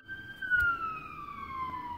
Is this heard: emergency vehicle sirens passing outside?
yes